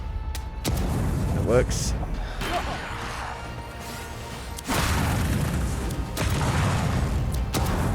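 Grenades go off in the fantasy action game Avowed, mid-fight on the Emerald Stair. Several loud, crashing blasts hit in quick succession beneath a voice talking during the chaos.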